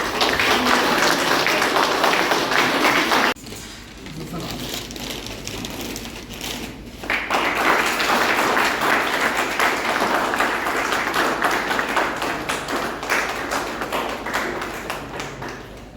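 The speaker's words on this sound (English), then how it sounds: "dear students, a huge round of applause for Professor Broad" A crowd of students claps for Professor Sugata Marjit at a DAV economics department book release, dense, sustained applause that briefly thins between about three and seven seconds, then swells back and continues steadily.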